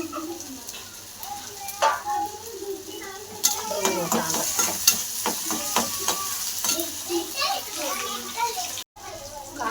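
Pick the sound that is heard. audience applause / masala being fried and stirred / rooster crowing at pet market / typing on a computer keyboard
masala being fried and stirred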